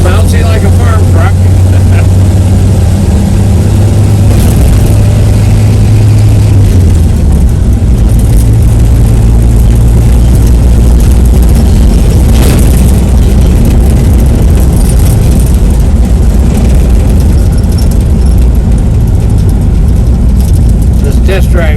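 A 1949 Dodge B-1-B pickup truck engine drones low and loud on a test drive through a roundabout, a steady rumble with shifting pitch and road noise running throughout, with a voice talking over it.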